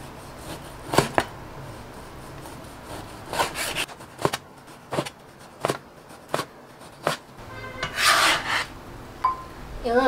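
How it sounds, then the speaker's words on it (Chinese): A knife cuts beef into thin slices on a board, with about a dozen separate slicing strokes heard close up, some quick and rasping, others a longer drawn scrape. "把牛肉切成薄片"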